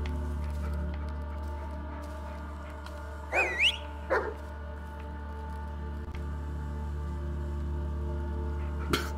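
A dog in the Blair Witch video game gives a few short yelps and barks partway through, heard over a constant low hum.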